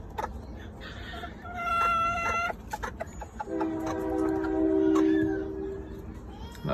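A hen with her single newly hatched chick in a box under a heat lamp, clucking and calling up close in a run of short harmonic calls, with a longer drawn-out call near the end.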